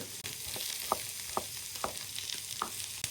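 Ingredients, including a large coarsely cut onion, sizzle in a pan as a steady frying hiss, broken by several sharp utensil taps and scrapes of stirring at irregular intervals, with no talking.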